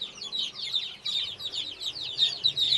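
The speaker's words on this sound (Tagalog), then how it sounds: "Yan yung Astralorp ko na lalaki." Australorp rooster clucking repeatedly in quick, steady bursts, fairly close and clear, with a continuous run of calls and no talk over it.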